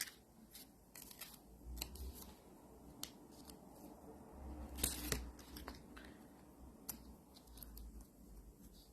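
Scissors snip through paper while paper flowers are being made, giving a series of sharp, irregular close cuts and rustles over quiet room tone.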